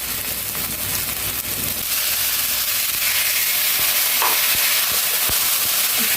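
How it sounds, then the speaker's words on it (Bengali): Spice paste for a rohu fish curry fries steadily in hot oil, a continuous close sizzle and hiss with occasional stirring scrapes, no voices over it. "এবারে মশলাটাকে একটু ভালোভাবে তেলের সাথে কষিয়ে নেব।"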